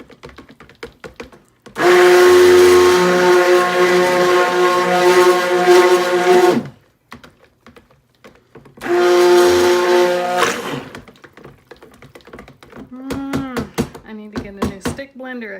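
A loud countertop blender whirs through a batch of thick mixture tinted with titanium dioxide, running in two bursts of about five and two seconds with quiet knocks and clicks between and after.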